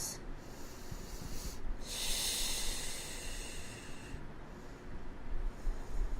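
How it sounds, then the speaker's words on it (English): During a seated yoga twist, slow, deep breaths come close and fairly loud, each long airy exhale rising and fading over a low background rumble, with no talking. "Deep cleansing breaths."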